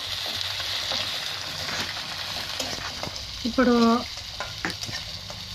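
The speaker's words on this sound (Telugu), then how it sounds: "కొంచెం ఆనియన్స్ రెడ్గా అయ్యే వరకు, కొంచెం మంచి కలర్ వచ్చే వరకు వేపి నెక్స్ట్ టమాటాలు వేయాలి" Onions sizzle and fry in a pan for South Indian tomato rice, a steady close hiss with stirring scrapes and a brief louder clatter partway through, while a voice speaks briefly.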